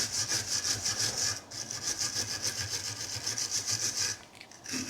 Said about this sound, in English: filing is an effective way of removing it, surface rust.